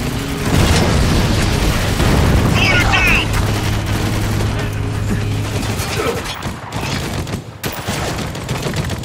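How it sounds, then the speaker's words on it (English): Mortar shells and heavy gunfire explode in a war shooter game set in a ruined city, with dense booms and rattling fire continuing loudly throughout while soldiers shout over the din. "Another shot from that mortar and we're fucking dead!"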